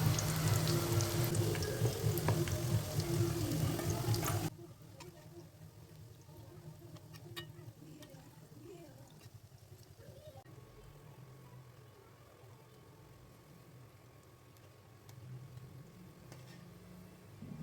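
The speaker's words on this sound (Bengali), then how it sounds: "এইভাবে দুই সাইড ভালোভাবে ভেজে নেওয়ার পর বাঁধাকপির পকোড়াগুলো তুলে নেব" Cabbage pakoras frying in hot oil, a loud dense sizzle for the first few seconds that drops to a quieter, steady crackle with occasional soft clinks as the fritters are turned and lifted out.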